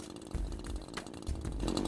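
A chainsaw cutting logs drones steadily at a distance, its pitch rising and falling slightly as it works, with no voices.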